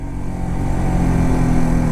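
A KTM RC 200 GP Edition motorcycle engine hums steadily under riding, pulling in gear with a smooth, rising mid-pitched drone and no talking over it.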